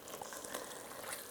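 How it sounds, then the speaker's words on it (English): A fruit, butter and water mixture simmering into a syrup in a pan for Christmas pudding, a soft bubbling and faint sizzle, quiet and close, brief and even, with no voices. "we're just going to let this simmer for about 8 minutes"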